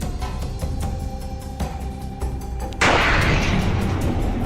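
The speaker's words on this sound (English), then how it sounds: "A massive explosion equivalent to 440 kilotons of TNT." The Chelyabinsk meteor explodes about 23 kilometres up in the atmosphere: scattered sharp clicks and pops give way to a sudden loud, broad roar that keeps rumbling on without fading.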